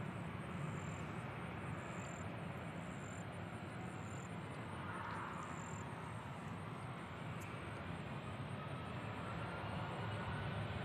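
A Southwest Airlines jet departs Nashville International Airport, a steady, distant broadband roar holding level throughout.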